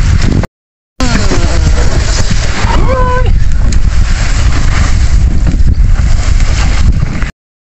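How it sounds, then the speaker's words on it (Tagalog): Typhoon wind roars against the microphone with a constant heavy wash of rain noise; a voice cuts through briefly near the start. "Lakas ng ulan. Sa hangin. May kulog pa."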